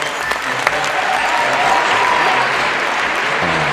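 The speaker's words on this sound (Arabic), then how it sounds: "صفقوا لك" Audience applause in a studio during a comedy show, dense steady clapping throughout, loud and close, with faint voices mixed underneath.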